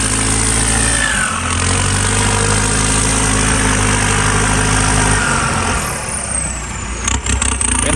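Engine running steadily at idle on an Isuzu Mu-7 3.0 SUV just fitted with a new turbocharger, a loud continuous drone with a low hum that shifts and roughens near the end, no talk.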